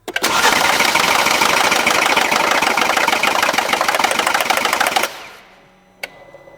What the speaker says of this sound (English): these adjusters go bad and they'll cause an excessive rattle noise on startup